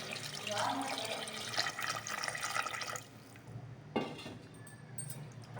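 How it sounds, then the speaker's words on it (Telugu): Water pours steadily into a metal pressure cooker holding mutton pieces for a few seconds, then stops, followed by a soft clunk and quieter trickling. "మటన్ ముక్కలు మునిగేంత వరకు వాటర్ వేసుకోవాలండి"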